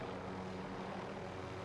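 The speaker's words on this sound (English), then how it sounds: "Get in the helicopter." A helicopter in the video game Warzone gives a steady, droning rotor and engine roar that stays constant and even throughout, with no voices.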